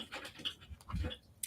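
Dog panting close by in a room, quick rhythmic breathy huffs over about a second and a half, fairly quiet with no talking.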